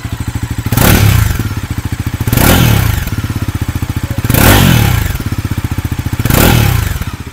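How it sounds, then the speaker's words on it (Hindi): A Bajaj Pulsar NS400Z with an underbelly exhaust idles with a loud, throbbing low burble, broken by four strong revs that rise and fall in a regular pattern, recorded up close. "तो आप जो है फटाफट से सुन लेते हैं अंडरबेली की आवाज़।"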